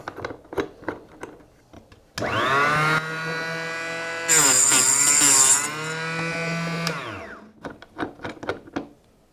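A mini chop saw for stained glass spins up with a steady buzzing motor whine and cuts through lead came, rising to a harsher grinding note mid-cut before winding down, with clicks and handling noise before and after.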